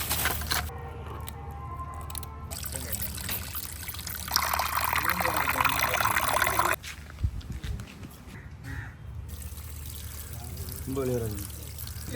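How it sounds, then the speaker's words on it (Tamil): Water is poured into odiyal (palmyra root) flour, making a steady splashing pour for a couple of seconds that settles into trickling and dribbling, with a person talking at times. "ஒடியல் மாவில் தண்ணியை ஊற்றி ஒரு அரை மணி நேரம் ஊற வச்சுட்டா"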